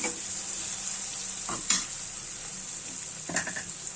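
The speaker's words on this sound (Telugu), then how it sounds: "ఇవన్నీ కూడా బాగా నూనెలో మక్కనించుకోవాలి" Onions and other ingredients for an egg curry stir-fry in hot oil, a steady sizzle running throughout with a few louder stirring scrapes of the spoon against the pan.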